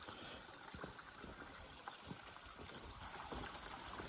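A waterfall by a forest stream pours in a steady, even rush with no breaks, the constant wash of falling water filling the whole stretch.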